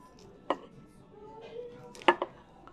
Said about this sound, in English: you could hear the crispness there of that lettuce